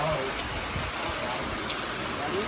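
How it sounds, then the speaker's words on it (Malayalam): Rain falls steadily at night, a dense, even patter on nearby surfaces with a few brief voices faintly underneath. "സാർ മഴയാണല്ലോ."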